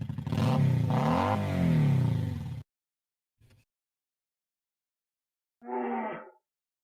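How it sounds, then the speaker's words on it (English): A motorcycle engine revs hard in a short burst, loud and close, played as a sound to identify in a guessing game, then cuts off abruptly; after silence a voice briefly speaks. "That is, in fact, the motorcycle."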